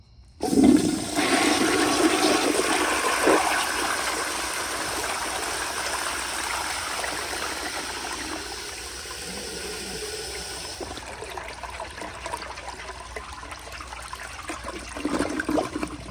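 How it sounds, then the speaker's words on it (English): A 1951 Crane Neuday toilet on a flushometer flushes with a sudden loud rush of water, settling into a steady strong gush that fades toward the end, with no talking. "here's a flush"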